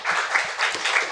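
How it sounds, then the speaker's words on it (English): A sports-event audience claps briefly for a guest in a short, dense burst of applause that swells twice within about a second. "A big round of applause for him, please."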